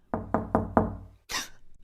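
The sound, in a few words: knocking on a door in a radio drama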